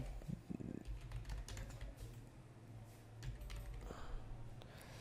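Rapid, uneven keystrokes on a computer keyboard while writing a document in Microsoft Word 2007, close and clear over a steady low hum, with a short pause near the middle.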